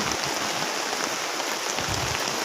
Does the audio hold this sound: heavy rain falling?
yes